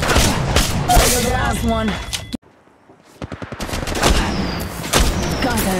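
Rapid automatic gunfire from Apex Legends Mobile, loud bursts of shots, a brief silent gap, then a quick string of single shots building back into heavy firing, with a player talking briefly.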